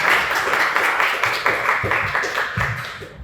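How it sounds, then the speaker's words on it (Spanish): Brief round of applause from an audience for biomedical students at a professional talk, dense steady clapping of many hands at moderate level, fading toward the end. "Un aplauso para nuestros biomédicos"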